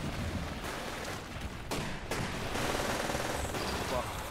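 Smart pistol gunfire in the video game Titanfall, with a dense, continuous barrage of rapid shots and explosive cracks that stays loud throughout, mixed into busy game action.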